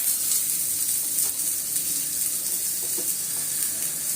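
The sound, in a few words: poha thalipeeth sizzling on an oiled griddle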